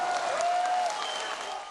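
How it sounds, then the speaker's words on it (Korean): A crowd bursts into steady, dense applause after roof tiles are smashed in a joint North and South Korean taekwondo demonstration in Jeonju. The clapping stays loud and even throughout, with a brief tone in the first second. "기왓장이 으스러지는 소리에 박수갈채가 쏟아집니다"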